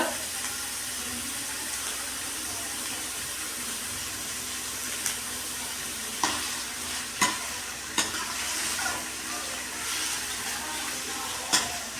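Onions fry in a pan with a steady, close sizzle, while a utensil stirs and scrapes them in several distinct clanks and sweeps spread through the second half.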